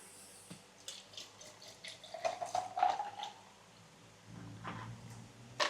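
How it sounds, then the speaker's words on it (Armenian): Sparkling water pours and splashes into a glass in short bursts, with light fizzing and dripping, fairly close and quiet. "Եվ ավելացնում եք գազով ջուր։"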